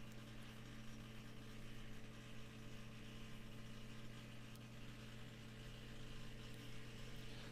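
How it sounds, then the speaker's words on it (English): A basement sump pump runs steadily right beside the listener, a continuous motor hum with strong low tonal drone and no breaks, fairly quiet overall. "there goes my sub pump again"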